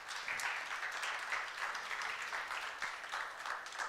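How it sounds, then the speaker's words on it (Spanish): A church congregation applauds during a Spanish-language sermon, a soft, sustained wash of many hands clapping, distant and fairly quiet with no talking over it. "Dale un aplauso al Señor, por favor."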